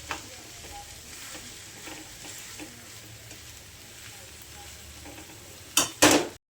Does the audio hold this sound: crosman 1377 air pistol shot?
no